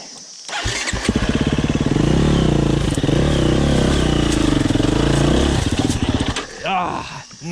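KTM 350 EXC-F enduro motorcycle revving hard as its rear wheel spins without traction on loose mulch beside a rock, a loud close engine roar with clattering for several seconds before it eases off, with talking around it.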